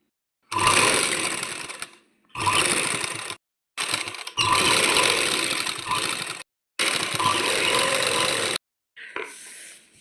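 A sewing machine stitches lace along the edge of a salwar, running in five or six bursts of steady, fast mechanical whirring with short pauses between them, close and loud, with no voices.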